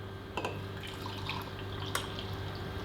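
Hot coffee drips into a mug from a coffee maker, soft trickling and a couple of sharper drops over a steady background hum, close by and fairly quiet.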